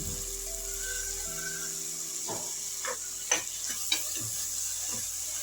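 Coriander and curry leaves frying in a pan for a mung dal khichdi, a low steady sizzle with a few crackles and pops near the middle, no voices.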